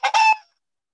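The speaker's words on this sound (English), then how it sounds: "Yes, it's a hen." A hen gives a single short, sharp cluck, close and loud, fading out quickly into silence.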